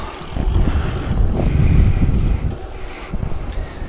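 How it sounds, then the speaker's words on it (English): Wind buffets the microphone while cycling the Dunwich Dynamo ride in a crosswind, a loud, rumbling, uneven roar that swells and dips in gusts, close and unbroken except for brief lulls. "I think what's made it worse than anything whatsoever has been the wind."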